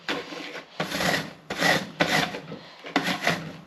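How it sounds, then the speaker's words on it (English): An unpeeled apple is rubbed against a grater in five rasping strokes, each a loud, close scrape separated by brief pauses. "So I'm just going to grate this apple, put that into there."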